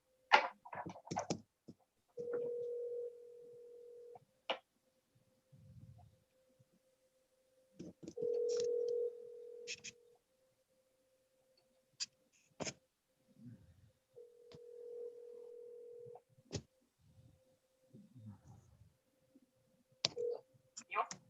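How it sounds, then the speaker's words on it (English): A telephone on an outgoing sales call gives a few dialing clicks, then repeating ringback tones in steady bursts with pauses, in a quiet room with faint voice fragments between the rings. "Yeah, I already dialed."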